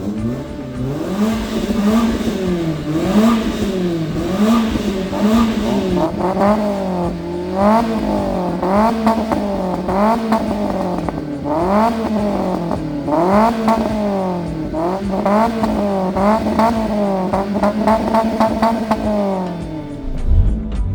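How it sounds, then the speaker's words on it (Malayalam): Modified Maruti Zen with a tuned, holed silencer, revved repeatedly while warm, a loud rhythmic series of engine rises and falls close by, with no talk over it. "ഇപ്പോൾ ചൂടായതുകൊണ്ടാണ് നമ്മൾ ആക്സലറേറ്റ് ചെയ്യുന്നത്"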